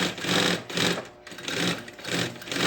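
A sewing machine runs fast safety stitches to hold a backpack's lining, in three close bursts of steady whirring with a brief pause between them.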